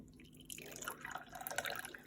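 Water poured into a water filter, a soft trickling, dripping pour that starts after a quiet half second and continues unevenly at moderate loudness, with no talk.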